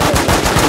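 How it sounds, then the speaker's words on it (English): Rapid automatic gunfire in the game WarZ, a loud close burst of several quick shots in a steady rhythm filling the whole brief moment. "Guy on the rock is shooting again."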